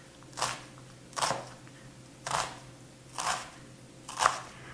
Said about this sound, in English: Now I'll dice up my onion.